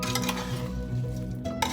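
A spoon stirs yogurt into an aloo gosht curry base in a pot with the stove still off. A brief, close scraping and mixing sound comes with a light clink near the end.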